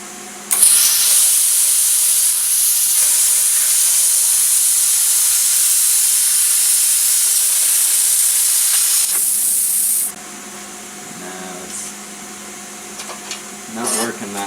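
A Primeweld CT-520D plasma cutter slicing through metal gives a loud, steady, hissing roar that runs unbroken for about nine seconds, then cuts off, leaving faint clinks and shuffling.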